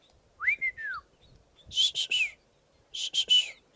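A person whistles an imitation of a whistling duck call: one sliding whistled note, then two bursts of three quick breathy chirps, close and fairly loud with nothing else around.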